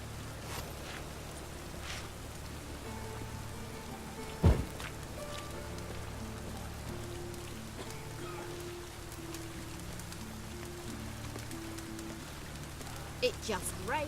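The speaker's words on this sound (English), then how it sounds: "It just rains and rains." Steady rain falls in The Witcher 3 as a constant hiss of drops on surfaces, with a sharp knock near the middle and faint tones and voices mixed underneath.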